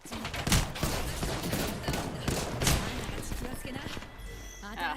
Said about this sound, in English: If they don't stop shooting